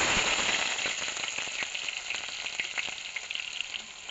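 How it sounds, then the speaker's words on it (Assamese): Chopped onions and garlic sizzle in hot oil in a wok, a dense, steady hiss peppered with sharp crackles and pops that continues without pause, close and fairly loud. "তো কেৰাহীত তেল দিয়া হ'ল, তেলখিনি পূৰা গৰম হৈ গ'ল। এতিয়া মই পিঁয়াজখিনি দি দিম।"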